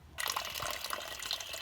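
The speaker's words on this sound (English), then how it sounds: "doing my final drain of water" Coolant water drains steadily out of the cooling system of a rusty Gen3 Mitsubishi Montero. The flow starts abruptly and keeps up as a continuous splashing gush, with small bubbling spatters on top.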